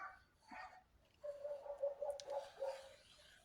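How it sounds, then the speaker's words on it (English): A neighbour's dog barks several times at a distance, a run of muffled, repeated barks with short gaps, heard outdoors in a quiet setting with no talk. "Barky dog's back."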